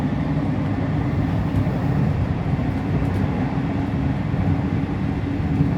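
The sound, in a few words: modern electric commuter train riding to Rome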